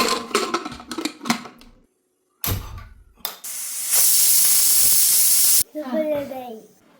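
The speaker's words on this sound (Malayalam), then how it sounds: "നമ്മൾ കുക്കറിൽ 5 വിസിൽ അടിച്ചിട്ടുണ്ട്." A pressure cooker on the stove cooking a tuber soup gives a loud, steady rush of escaping steam for a couple of seconds after some clattering, then falls quiet as a voice begins.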